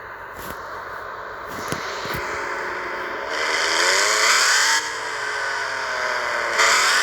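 Cars pass along a street by a market, engines whirring and revving as vehicles approach and move off, with a louder pass in the middle and another near the end over steady background noise.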